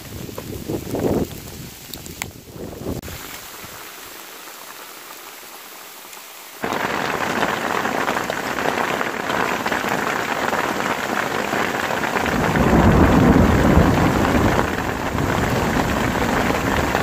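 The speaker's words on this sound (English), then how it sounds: "oh, it's hailing" Heavy hail from a hailstorm, large stones pelting surfaces outdoors in a dense, loud, steady roar after a brief quieter start, with no talk.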